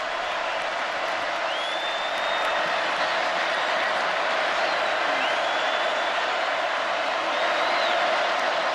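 A packed stadium crowd at an LSU home football game against Alabama keeps up a loud, steady roar that holds evenly throughout, with faint whistle-like tones rising above it now and then.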